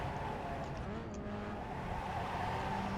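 Pontiac Solstice race car in the iRacing simulator, its engine droning steadily at high revs through a corner complex, moderately loud and continuous.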